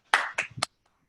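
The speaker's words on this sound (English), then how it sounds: "Round of applause." Applause for the winner of an English class quiz: three quick, close, separate claps in about half a second, followed by near silence.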